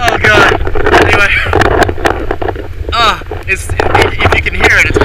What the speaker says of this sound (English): If you can hear it, it's windy like hell